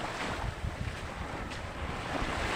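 A small fishing outrigger boat rides at sea, heard through constant loud wind buffeting and rushing water and wave noise with no voices.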